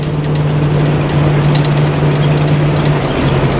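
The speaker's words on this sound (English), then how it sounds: "The car sounds really good. It's got a nice exhaust note to it." A 1971 Chevrolet Camaro's exhaust drones loud and close, a steady low rumble with a constant pitch throughout.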